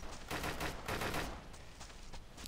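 A rapid burst of gunfire in the video game Deadside crackles in quick succession, sharp and dense, then tapers off.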